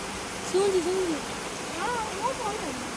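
A waterfall's water rushes in a steady, even broadband roar that fills the whole clip, with a person's voice rising over it twice.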